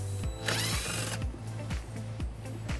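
A power tool fitted with an 8 mm socket spins out a bumper bolt on a 2019 BMW X3, giving a close, continuous motor whir with a regular pulsing beat.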